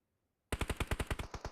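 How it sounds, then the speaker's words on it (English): Rapid automatic gunfire in PUBG Mobile during a competitive esports match, bursting in suddenly after silence as a steady string of about a dozen loud, close shots with no talk over it. "They will hear this gunfire over towards Power"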